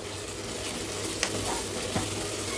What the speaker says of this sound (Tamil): இப்போ இதை நல்லா வதக்கிட்டுக்கலாம்